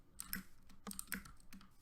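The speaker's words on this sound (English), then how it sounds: "Sorry if you can hear the keyboard too, guys." Computer keyboard keys click in quick, irregular taps during typing, close but faint, with no voices.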